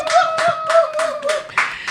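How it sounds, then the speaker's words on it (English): A small group claps together in a burst of applause at a community talk, the claps coming in loose pulses about every half second, close and moderately loud, with a tonal hum running underneath and no talk. "Clap for yourselves."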